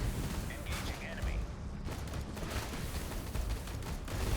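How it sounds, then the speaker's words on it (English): Acid mortars fire in the undead real-time strategy game Age of Undead, giving scattered booming launches and impacts amid layered battle noise, while someone talks over the action. "Oh, these things are acid mortars."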